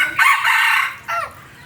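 A rooster crows loudly and close by in one long call, followed by a shorter second burst, with little else around it.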